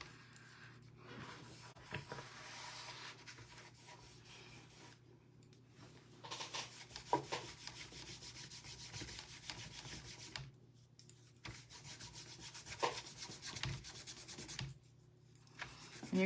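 White paint being rubbed by hand into the cracks of a wooden piece, a soft continuous scrubbing and rubbing with brief pauses, close and quiet.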